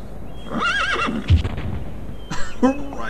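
A horse in the strategy game Svea Rike II gives a loud, wavering neigh up close, followed by a thud and a second shorter whinny, with battle noise underneath.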